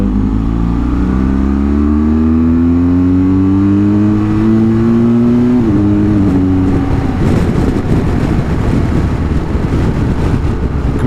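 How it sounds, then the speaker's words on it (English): Motorcycle engine pulled through a single gear from low to high revs, a loud close rising drone climbing steadily in pitch, then giving way to a rougher roaring rush at the top. "That was 1 gear from all the way low to high rev"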